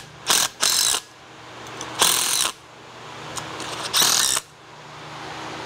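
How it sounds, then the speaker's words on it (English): Three short bursts from an impact driver sinking Tapcon screws into concrete for an outdoor kitchen frame, each a brief loud rattling hammer separated by quiet pauses, with no talking. "put these Tapcon screws down in there, and I'm gonna secure them with my impact driver"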